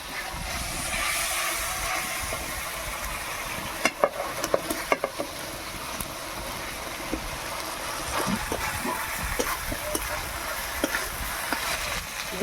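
Fried vegetables going into gandal leaf curry frying in a pan, giving a steady hiss and sizzle with a few sharp clatters as they drop in, close and continuous, with no talking.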